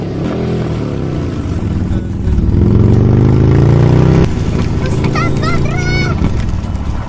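A motorcycle engine in an Indonesian film drones at idle, then revs into a rising, louder whine before settling back. Fainter chirping and other sounds follow near the end.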